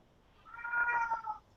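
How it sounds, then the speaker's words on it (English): A house cat gives a single drawn-out meow, clear and fairly close in a quiet room, rising and fading over about a second. "Oh, there's my cat."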